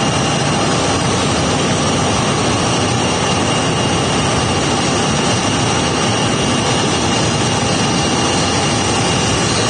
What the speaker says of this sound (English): I think we've had one takeoff here on the north side